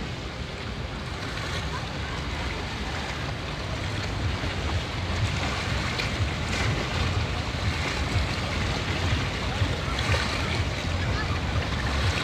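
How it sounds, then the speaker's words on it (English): A boat passes near ocean waves, its engine blending into a steady, dense wash of surf and gusting wind noise that stays loud and continuous throughout. "I hear noise. Let me see what that is. Yeah, it's a boat."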